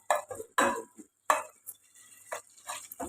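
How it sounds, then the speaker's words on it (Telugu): Sliced onions fry in a pan and are stirred with a utensil, giving several distinct scraping, clinking strokes spaced irregularly, close by, over a faint sizzle. "ఉల్లిపాయలని కొంచెం వేయించుకోవాలి."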